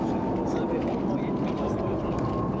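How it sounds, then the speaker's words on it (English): An aircraft on its takeoff roll at Brussels Airport gives a steady, broad engine roar with no breaks, heard from the ground nearby, with a person talking over it. "Somebody's on their takeoff roll at the minute."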